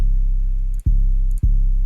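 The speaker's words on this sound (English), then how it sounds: "So the first thing I added was an 808." A deep 808 bass from a drum kit in an FL Studio beat booms in loud, sustained low tones, retriggered twice with sharp clicky attacks and brief dips between hits, heard alone with no voice.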